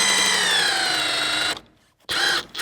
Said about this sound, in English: Let's try just the drill. Should have more power than impact.